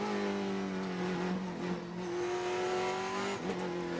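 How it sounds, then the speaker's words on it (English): Onboard a TA2 race car at World Wide Technology Raceway, the engine drones loud and close with steady high revs. Brief lifts and a downshift blip break in around the middle and near the end, and no talk is heard over the motor. "But let's ride on board right now with Rafa Matos, two-time TA2 champion."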